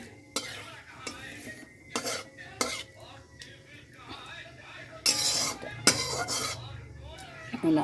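Spoon scrapes and clinks against a pan as whole spices like cardamom, cinnamon, cloves, cumin, dried chilli and bay leaf are stirred before the potatoes are fried, with sharp intermittent knocks over a faint sizzle and a voice speaking.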